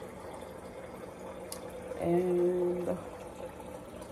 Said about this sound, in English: I'm gonna fill my water bottle so that when I finish drinking it, I know that I had 32 ounce water today